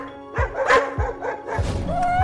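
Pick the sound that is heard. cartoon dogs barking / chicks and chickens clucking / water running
cartoon dogs barking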